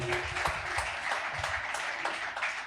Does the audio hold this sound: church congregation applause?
yes